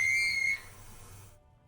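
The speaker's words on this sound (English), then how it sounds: "That's the sound of a Kvalson crane." A Kvalson crane at a harbor in the video game Disco Elysium gives a single sustained high whistle-like tone lasting about half a second, then fades under a low hum before cutting to silence.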